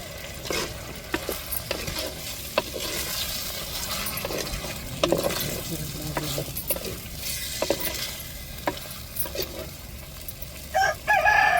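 A spoon stirs chicken kurma in a pot just after salt goes in, with soft scraping and sizzling ticks at an uneven pace, close and steady, and a few louder clanks near the end.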